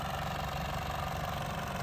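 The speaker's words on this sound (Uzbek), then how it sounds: "Mana traktorimiz eng past tezligida septiryapmiz dorini." A TTZ tractor engine runs at its lowest speed while spraying a field, a faint, steady low drone without a break.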